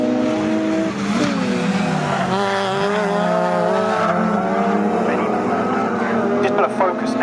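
Pre-1993 and pre-2003 touring race cars, BMW among them, charge through a circuit's corners off the straight, with loud sustained engines shifting pitch and brief tyre squeal, under continuous race commentary.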